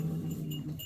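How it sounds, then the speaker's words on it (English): A dog at a farm show gives a short, low, tonal growling whine in a brief close burst, with no speech over it. "You don't have to bark at my shadow."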